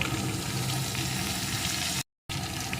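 Cauliflower stems with slit green chillies, salt, turmeric and chilli powder fry in a pan, a steady loud sizzle with light stirring throughout and a brief silent cut near the end.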